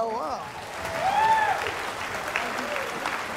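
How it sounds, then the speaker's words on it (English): Audience applause at a Hawaiian comedy show, a steady wash of clapping with some cheering and whistles, moderately loud and continuous throughout. "give them all a big round of applause"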